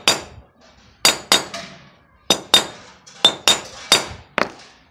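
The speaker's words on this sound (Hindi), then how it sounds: "जिसके लिए एक हथौड़ा ले लेंगे हम और एक दो हथौड़ा, और इसे हम हल्का हल्का यहाँ पे चोट करेंगे" Sharp metallic hammer taps on a rusted nut and bolt, about nine crisp ringing strikes in loose pairs and singles with short decaying rings between, loud and close.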